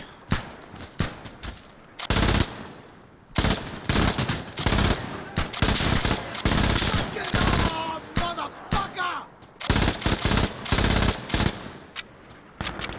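An MG3 machine gun in Insurgency Sandstorm fires loud, close bursts of rapid shots separated by short pauses, with voices speaking between the bursts.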